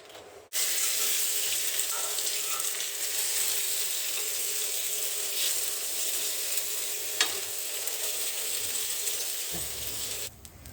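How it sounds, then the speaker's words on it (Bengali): Potatoes frying in hot oil with garlic in a pan, a loud steady sizzle lasting several seconds that cuts off abruptly near the end, with occasional stirring. "এই যে এখানে রসুন হয়ে গেছে, এখানে দিয়ে দিবে এখন আলু।"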